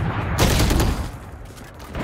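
Video-game gunfire sounds as a dense, loud barrage of rapid shots that swells and then thins out, with continuous firing across the whole moment.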